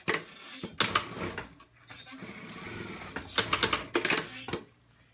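Domestic sewing machine stitching a seam on an A-line dress, bursts of rapid mechanical clatter with short pauses between runs, close and fairly quiet.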